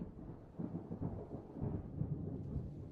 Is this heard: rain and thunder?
yes